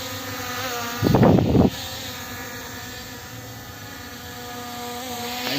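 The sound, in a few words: P18 Pro camera drone flying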